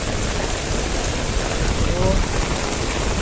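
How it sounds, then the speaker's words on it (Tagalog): Heavy rain pours down near a bus terminal at Grand Promenade, a loud, continuous hiss of drops hitting surfaces all around, steady throughout. "Lakas ng ulan."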